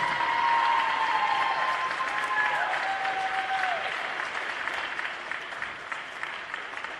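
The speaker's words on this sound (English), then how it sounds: "Let's give all 4 of our seniors another nice round of applause." Sustained crowd applause in a high school gymnasium for four senior players at a girls volleyball match, loud and dense at first, then gradually thinning and easing toward the end.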